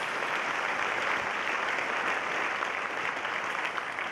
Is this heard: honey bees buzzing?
no